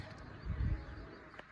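Racing pigeons coo softly once from close by, a short low murmur with faint room noise around it.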